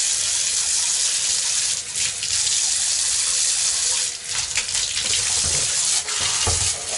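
Warm tap water runs steadily while handmade felted wool slippers are rinsed out, a close, continuous splashing gush with brief dips and sloshing as the slippers are moved under the stream.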